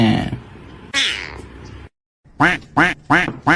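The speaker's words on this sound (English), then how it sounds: "Quack, quack, quack, quack, quack." Several loud, close duck-like quacks in a quick series of four separate calls, following an earlier cat meow and a brief silence.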